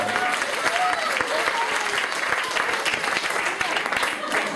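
Loud, sustained applause from a large church congregation before a baptism, continuous dense clapping with faint voices and a whoop or two mixed in.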